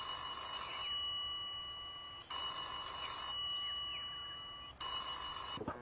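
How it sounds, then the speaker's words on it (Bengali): A telephone bell rings in three long, loud, close bursts that repeat in a steady rhythm with short gaps between them and no voices. "হঠাৎ একদিন বিকেলে তার বাবার ফোন এলো।"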